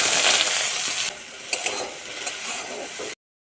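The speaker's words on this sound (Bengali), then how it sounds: "বেগুনগুলো ভেজে নেব।" Eggplant pieces fry in hot oil in a pan, with a loud, steady broadband sizzle that dips in level after a second and carries a few brief spatula scrapes and clinks before cutting off abruptly.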